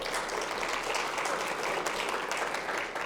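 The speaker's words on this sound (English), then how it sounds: "Hold the applause for a moment, okay?" Audience applause during a business talk: dense, even clapping from a large crowd, moderately loud and continuous for the whole stretch with no voices on top.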